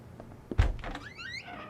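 A door closing in the video game Unheard, a single solid thunk followed by a brief, faint rattle.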